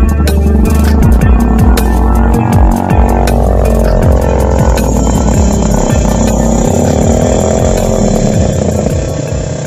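A loud, steady engine drone with rising and falling revs, like a small motorcycle running close by, a Kawasaki Ninja R, continuous throughout with no talking.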